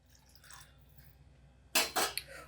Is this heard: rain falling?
no